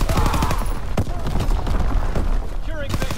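A WW2 video game artillery barrage rumbles with dense bursts of booming gunfire and explosions, continuous and loud, while a player talks over the top.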